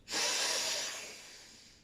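A single deep inhalation during a guided breathing exercise with the arms raised overhead, a close, steady airy breath swelling quickly and then slowly fading over about two seconds, heard alone.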